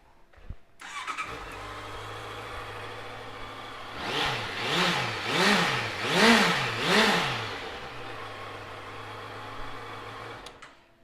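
A 2016 Honda CB650F motorcycle engine starts up, settles into a steady idle, then revs in four rising and falling throttle blips before dropping back to idle, close and clear with no talk.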